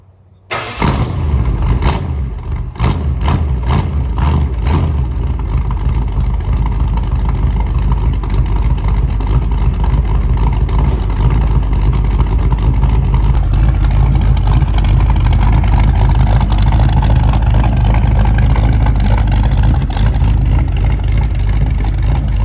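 A 1956 Mercury with a 351 Windsor Ford V8 cold-starts after sitting nearly a week: a brief crank, then the engine catches and settles into a loud, close, steady idle with a deep rumble from the newly fitted exhaust.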